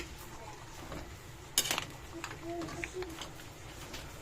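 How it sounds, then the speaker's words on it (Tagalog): A spoon stirs kangkong leaves into mussels simmering in coconut milk in a metal pan, with a sudden cluster of clinks and scrapes followed by softer intermittent taps, close and fairly quiet against low background noise. "Mix natin ang dahon ng kangkong."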